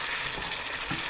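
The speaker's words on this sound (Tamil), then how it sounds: "இப்படி ஒரு பபிள் வந்து கொதிக்குது பாருங்க." Egg curry sauce in the style of a dhaba bubbles and boils in a pan, giving a steady close hiss with soft popping bursts throughout and no voices.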